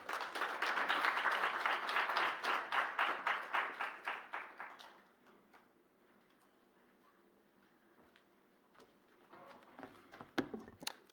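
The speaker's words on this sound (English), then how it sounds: "Please give another round of applause to the research lead." An audience applauds at a live report launch on safeguarding female journalists online. The clapping is steady and fills the hall for about five seconds, then fades to quiet room tone with a few scattered claps near the end.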